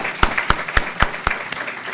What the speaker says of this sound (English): Please welcome him with applause.